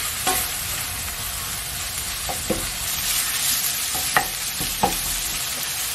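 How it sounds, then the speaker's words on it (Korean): Minced garlic being stir-fried with thin-sliced imported beef brisket, with a loud continuous sizzle broken by several scraping and clinking stirs of a utensil against the pan. "다진 마늘 반 스푼, 좀 바싹 볶아주겠습니다."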